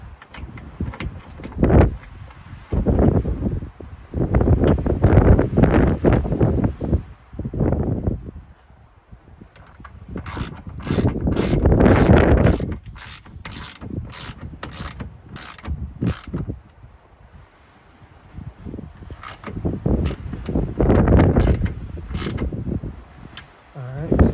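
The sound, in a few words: screwing in a part of a Retrax Pro XR tonneau cover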